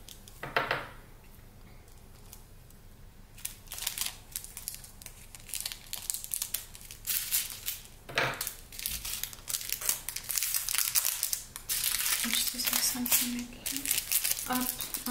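Scissors cut through small plastic bags of diamond painting drills, close up. The cutting mixes with crinkling and rustling plastic, a few sharp snips and brief faint talk.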